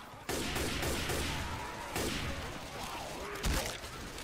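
A sniper rifle fires at zombies in the Left 4 Dead video game, producing several sharp gunshot blasts amid dense, chaotic in-game noise at moderate, somewhat muffled volume.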